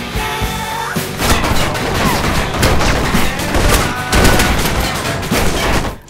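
Sustained assault rifle fire from a shooter video game, a dense, loud run of rapid shots and impacts with bursts and booms layered together, continuing almost unbroken throughout.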